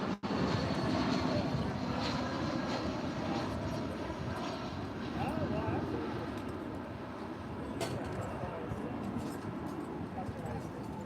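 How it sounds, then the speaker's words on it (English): An Alaska Airlines Boeing 737-900ER jet waits to take off on runway 18 Left at DFW, its engines a steady broadband roar that stays loud and fairly even throughout, with a voice talking over it. "737-900ER waiting to take off there on 18 left."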